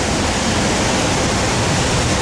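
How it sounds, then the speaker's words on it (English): Water pours down from a structure at SeaTac Airport, making a steady, dense rushing hiss that stays even and loud throughout with no breaks. "it's the thing that has water pouring down from it that you can't see, you can only hear it"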